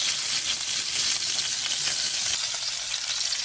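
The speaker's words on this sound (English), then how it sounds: "I'm just gonna saute on the other side for about 60 seconds." Steak sautéing in a pan gives a loud, continuous, close sizzle with a bright crackling hiss that eases slightly partway through.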